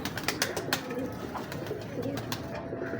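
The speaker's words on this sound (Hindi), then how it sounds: "ये रिजल्टेड कबूतर हैं" Pigeon cooing softly and repeatedly at close range, with faint background noise and no talk.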